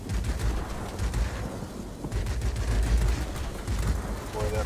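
Rapid bursts of aircraft cannon fire from a Tier VIII British Supermarine Seafang F.32 in World of Warplanes, dense rattling volleys with flak and engine noise, repeating in short bursts throughout.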